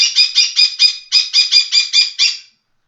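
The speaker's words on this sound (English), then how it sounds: "while the bird does a shriek" A pet bird shrieks in a rapid series of about eleven harsh, loud, close calls, a short gap near the middle, then stops abruptly, with no talking.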